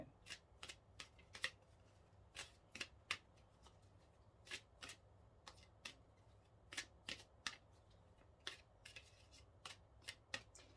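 Tarot cards are shuffled over and over in quick riffling bursts, each a crisp flutter, with brief pauses between them; close and fairly quiet, no talking.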